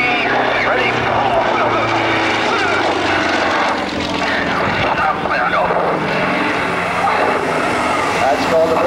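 A Yak-55M aerobatic airplane at the 2003 NY International Airshow, its propeller engine roaring loud and continuous with wind noise buffeting the microphone, under a commentator's talk.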